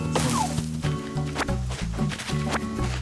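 An axe knocks against a tree in Animal Crossing: New Horizons: a few separate wooden thwacks about a second apart, set over steady cheerful background music.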